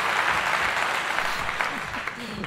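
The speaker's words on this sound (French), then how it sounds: "S'il vous plaît, un tonnerre d'applaudissements pour avoir réussi le tuto des Family 7." Stadium crowd applause in the video game FIFA 17, a broad continuous roar of clapping and cheering with faint voices mixed under it, holding steady before easing slightly toward the end.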